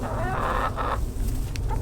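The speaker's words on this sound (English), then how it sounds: "chickens everywhere" Chickens cluck and call nearby over a low background rumble, with a few short squawks.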